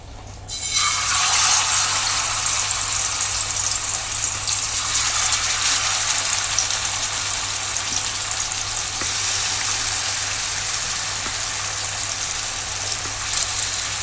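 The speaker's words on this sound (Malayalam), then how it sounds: "ഈ ചൂടായ ഓയിലിനകത്തോട്ട് നമ്മുടെ മീൻ ഇട്ട് കൊടുക്കാം" Fish dropped into hot oil in a pan for a Kerala-style fry, a sudden loud burst of sizzling that settles into a steady, close, vigorous crackle with no talking.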